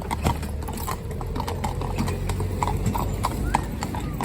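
A pair of Friesian mares from Holland walk with steady, close clip-clopping hooves on firm ground, an even rhythm of sharp knocks continuing throughout while someone talks over them.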